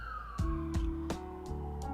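A police car siren wails outside, its steady tone sliding downward and then holding level, loud and close, with several sharp broadband bursts breaking in over it.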